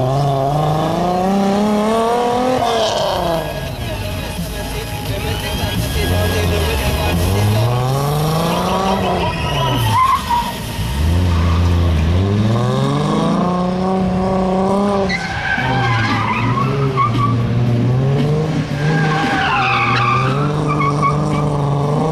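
A powerful rally car with wide rear tyres slides through turns on a national rally championship stage, its engine revving up and down in sweeping howls with tyre squeal, loud and close, passing by continuously.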